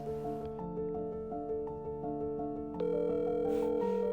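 A phone ringback tone plays during an outgoing call, a steady repeating electronic ringing pattern heard alone and close, getting slightly louder and fuller near the end.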